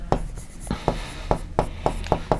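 Chalk or marker strokes on a classroom board during a grade 6 maths lesson on integers, a rapid series of about nine short, crisp scratchy taps in an uneven rhythm, close and clear with no talking.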